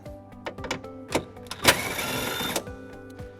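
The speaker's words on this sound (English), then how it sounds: "We're going to remove that bolt using a 10mm socket." A 10mm socket on a ratchet works a bolt loose on a 2020 Toyota Sienna, giving a series of quick, sharp mechanical clicks with a brief louder buzzing burst in the middle, all heard up close.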